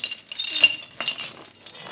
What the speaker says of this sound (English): was walking towards him in chains, moaning and groaning